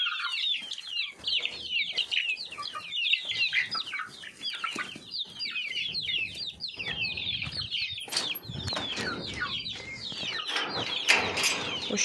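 Chickens around one and a half months old cluck and chirp busily up close, with occasional wing flaps and a few louder squawks near the end, no talking.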